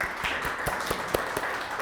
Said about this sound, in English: So round of applause for Nathan, he's awesome.